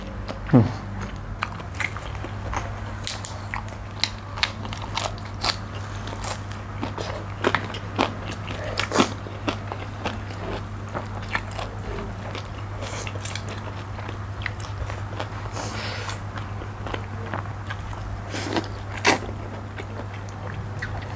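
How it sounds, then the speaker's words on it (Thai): Crispy fried pork being bitten and chewed close up, a string of short crunchy bites over a steady low hum, eaten alongside a spicy Thai pounded salad with pork sausage. "กรอบกรอบ ทำไมจะไม่กรอบอ่ะพี่เอ็ม"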